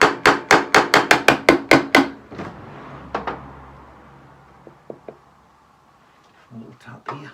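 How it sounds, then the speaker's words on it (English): A hide-faced hammer of leather and copper delivers about ten quick, evenly spaced taps on a Honda CL350 engine cover, followed by a few scattered single knocks and someone speaking briefly. "This is a little hide-faced hammer."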